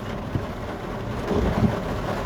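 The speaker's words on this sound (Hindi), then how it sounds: "खूब तेज बारिश है" Heavy rain pouring on a divided road in Faridabad during a hailstorm, a dense steady hiss with low rumbling thunder swelling underneath.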